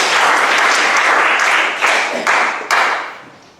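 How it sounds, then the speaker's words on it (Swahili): A classroom of students applauds a classmate, dense steady clapping filling the room for over three seconds before tapering off, with a few sharper individual claps near the end. "Safi, mpigeni makofi."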